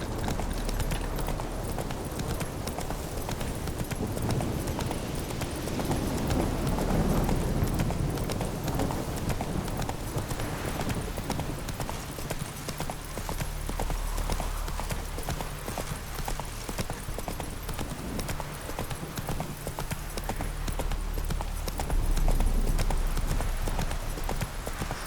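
A horse gallops with steady rhythmic clip-clop hoofbeats in The Witcher 3: Wild Hunt, loud and continuous throughout with a faint ambient bed beneath.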